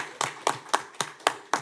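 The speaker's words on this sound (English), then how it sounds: "can we give them a round of applause?" Applause at a city commission meeting comes as six sharp, evenly spaced claps across the room, a slow rhythmic clapping at moderate distance with no voices over it.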